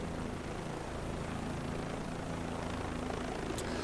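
Steady whine and drone of a twin-bladed Bell 222 helicopter's rotor and engine in Microsoft Flight Simulator 2024, loud and constant throughout with no voices.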